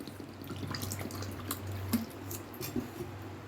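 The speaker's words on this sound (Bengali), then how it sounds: "সুজি নিয়ে নিয়েছি বাটিতে এবার জল দেব" Water trickles into a bowl of semolina for making semolina idli, soft dripping and splashing over a low steady hum, close and quiet.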